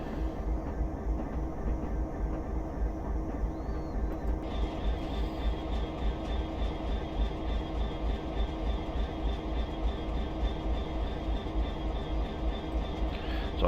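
Class 66 diesel freight locomotive rolling slowly out of Tees Dock in Train Simulator Classic, a steady low engine drone with a rhythmic rumble of wagons throughout and no voices.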